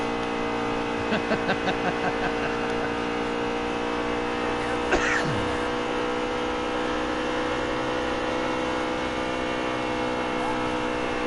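In the racing game NASCAR Heat 3, race truck engines drone steadily throughout with a rapid series of revving pulses early on and a brief pass-by sweep midway.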